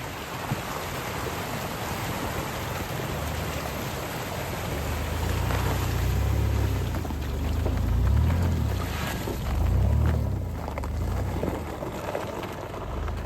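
A Jeep Liberty with tires aired down to about 20 PSI drives a mountain trail through about six inches of fresh sticky snow, giving a steady rumbling engine drone with slow swells in loudness and a broad hiss of snow and wind.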